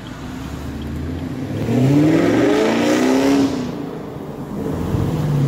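On an evening drive, a Chevrolet Camaro SS engine revs up with a rising, throaty roar that peaks and settles, then swells again, heard from inside the car with no talking.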